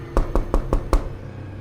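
Five evenly spaced knocks on a back door, dull and fairly close, rapping in a steady rhythm before fading into quiet room tone.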